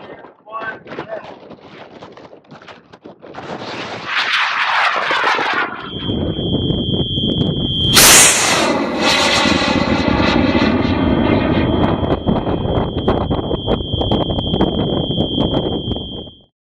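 A large model rocket with an L1040 Dark Matter motor and dual altimeters launches at a rocket launch event: a loud roaring rush that builds after the countdown and holds steady, with crowd voices and cheering underneath.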